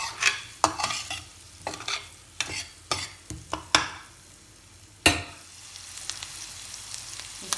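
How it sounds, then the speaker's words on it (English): Lentils and spices cooking in a pan, a soft sizzle under repeated sharp scrapes and clacks of a spoon stirring at an uneven rhythm, close by with no voices. "The spices are cooking nicely."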